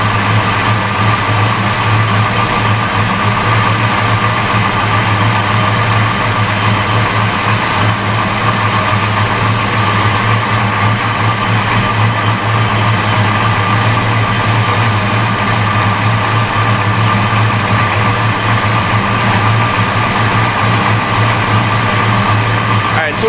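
A 1990 Mustang GT engine idles steadily with its alternator charging, a constant low rumbling drone that holds unchanged throughout.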